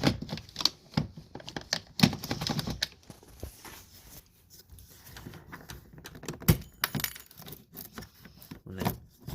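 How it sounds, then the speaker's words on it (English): A plastic pry tool clicks and snaps against trim while prying out a window switch on a 2000–2004 Subaru Outback or Legacy, with irregular close sharp ticks and rattles that are sometimes quick, sometimes spaced out, and no talk. "take this out. I've got this plastic little pry tool"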